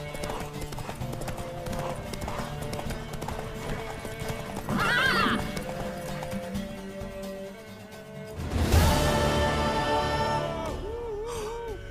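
A horse whinnies and hooves clip-clop in a steady rhythm during a horse race in The Witcher 3: Wild Hunt, with a louder burst of neighing and snorting near the end over a busy game background.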